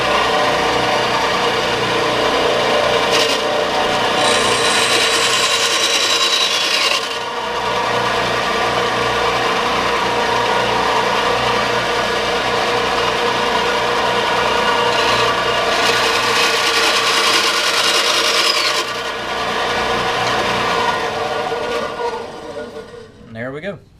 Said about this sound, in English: take this piece off the head and the tail of the bat and then sand it down